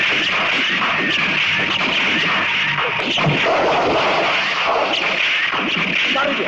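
Gunfire in a dramatic scene, dense and continuous crackling shots with distant booming texture over a busy background, fairly steady loudness throughout with no clear speech.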